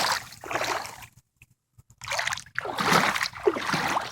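Seawater flood water on a residential street splashing and sloshing in bursts with a brief quiet gap in the middle, fairly close and moderately loud.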